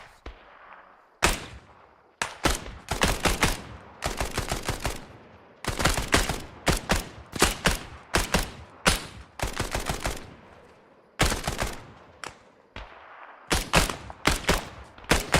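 Bursts of rifle and machine-gun fire in the military shooter Combined Arms, loud, sharp volleys repeating in clusters across the whole stretch with short quiet gaps between them.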